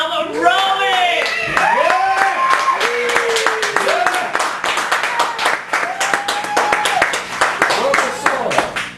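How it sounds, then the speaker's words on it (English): An audience at a cafe gallery poetry event in Chicago claps for a featured poet. Loud whoops and cheering voices ride over a scattered, uneven patter of hands that carries on for several seconds. "give the biggest round of applause known to mankind for Tom Roby"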